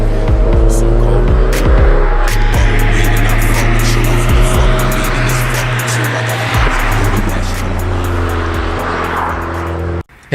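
A 1986 Porsche 944 Turbo (951) driving, its engine humming loudly and steadily with shifting pitch, rising and dropping as it accelerates, recorded close with wind and road noise throughout.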